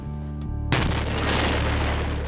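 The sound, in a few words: dynamite explosion inside a room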